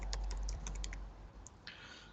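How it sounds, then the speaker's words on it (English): Typing on a computer keyboard, a quick run of clicky keystrokes for about a second, then a pause and a few more scattered taps, close by over a low background hum. "trying to type."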